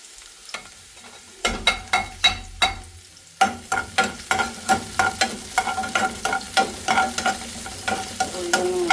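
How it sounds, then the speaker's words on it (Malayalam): Small onions and cooked mutton frying in oil in a pan for green chilli mutton kurma, a sizzle under a steady run of sharp, regular spoon scrapes and stirs, close and loud, with no voices. "കുറച്ച് ചെറിയ ഉള്ളി ഇട്ട് നമുക്ക് ഈ വെന്ത മട്ടനൊന്ന് മൂപ്പിച്ചെടുത്താൽ നല്ല ടേസ്റ്റ് ഉണ്ടാവും"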